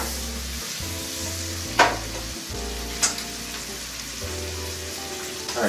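Capicola fries in butter in a pan that is swirled around, producing a continuous sizzling hiss with a few sharp clicks and pops over a low background hum.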